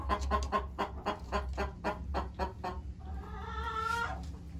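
Hens sitting in nests, clucking in a quick, regular pulsing series, then one drawing out a longer, rising call near the end, close and clear over a low hum with no talk.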